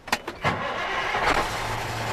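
A truck engine cranks briefly and catches during a driving-school pre-trip inspection, then settles into a steady close idle.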